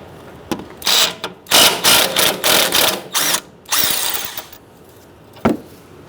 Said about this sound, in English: Using a 17mm wrench, hold the stud of your link still while you use a 18mm socket to undo the nut